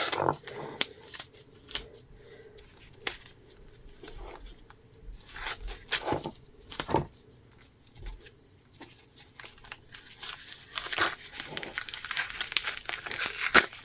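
Masking tape peeled off painted fall decorations, a series of faint close crinkling and tearing rips scattered over the span, with quiet handling noise between them.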